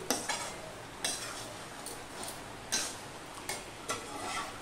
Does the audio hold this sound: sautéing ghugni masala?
yes